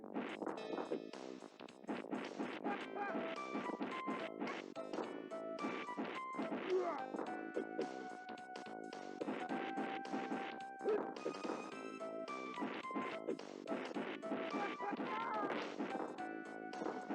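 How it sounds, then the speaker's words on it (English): Attack effects from a beat 'em up video game: rapid punchy hits, smacks and crashes stack densely over game music, with a voice speaking over the action at times. "the sound effects are pretty whack. I mean, just listen to how they sound when they attack."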